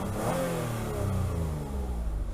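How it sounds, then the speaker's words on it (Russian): A second-generation Toyota Alphard minivan's engine revs up briefly, a smooth continuous mid-pitched rising roar heard close by with no talk over it. "Попробуем погазовать немножечко"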